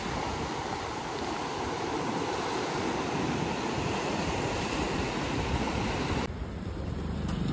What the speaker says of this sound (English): And right behind us is the ocean.